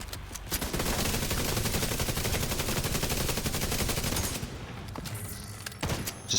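Sustained rapid automatic gunfire in The Division 2, a loud continuous volley of shots lasting several seconds before stopping, with a few scattered sounds after.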